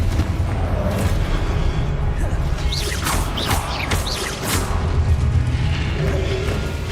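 Confringo fire spell explosions from Hogwarts Legacy rumble as a dense, continuous barrage of booming blasts, loud and layered over a heavy low roar throughout.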